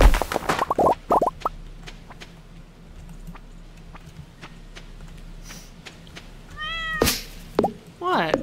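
Cartoonish cat meows from the Stardew Valley farming game, a few short mews at the start and a clearer meow near the end, with light game plops and clicks in between.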